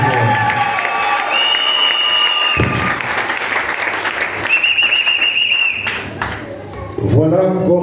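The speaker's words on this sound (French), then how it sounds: "Si vous êtes dans la joie, applaudissez encore pour le roi des rois, le Seigneur des seigneurs." A church congregation at a Sunday thanksgiving service applauds and cheers, with whistles and raised voices mixed into the clapping. A speaker's voice rises over it in places.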